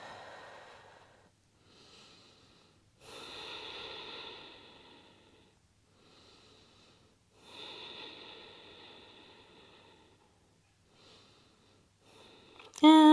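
Slow, deep yoga breaths drawn in and released in long airy swells, each inhale and exhale lasting a few seconds with quiet pauses between, close and soft, ending in a brief sharper burst.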